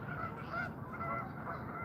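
Geese honk at a distance during an early-morning hike as they fly off, a steady flock chorus running through the whole moment with no talk.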